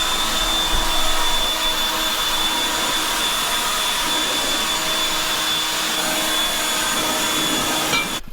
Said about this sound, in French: le petit souffleur Husqvarna il fait plaisir pour souffler le matériel